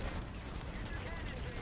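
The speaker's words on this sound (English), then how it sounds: "Cannons!" Cannon fire in Call of Duty: Infinite Warfare, a space-war campaign mission, as a dense, continuous roar of low booms and rumble that runs without a break across the whole stretch.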